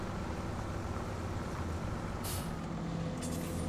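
An unmuffled truck engine rumbles loudly and steadily in Farming Simulator 17. Two short, sharp air-brake hisses cut through near the end.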